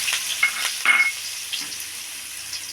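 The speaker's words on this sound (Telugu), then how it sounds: "ఉల్లిగడ్డలు వేసుకున్నానండి. ఇప్పుడు బాగా కలుపుకుంటున్నా." Chopped onions hit hot oil seasoned with mustard seeds and are stirred in a pan, a soft steady sizzle broken by a few brief scraping strokes, close and with no talking.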